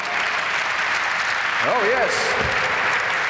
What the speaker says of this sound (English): a round of applause for the main man